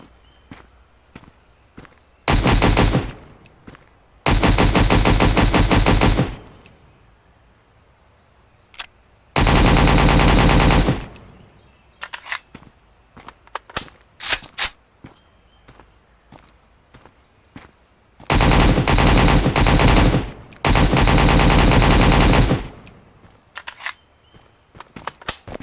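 Automatic AK rifle fire in the Road to Vostok shooter game: several loud sustained bursts, some around two seconds long, separated by quiet gaps filled with footsteps and small handling clicks.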